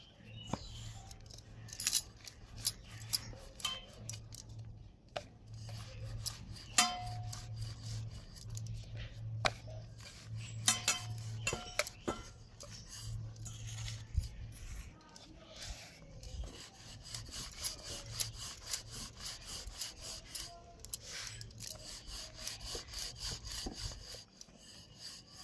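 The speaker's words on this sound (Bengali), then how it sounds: "এবার আমি রুটিটাকে বেলে নেব।" A roti of potato and semolina dough dusted with flour is rolled out with a rolling pin, giving repeated soft rubbing and light wooden knocks close by over a low steady hum.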